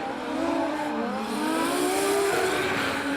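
A pro drift car driven by Aaron Hyatt in D1NZ qualifying at Wellington revs hard and screams through a long slide, its engine note rising and falling steadily at a moderate distance.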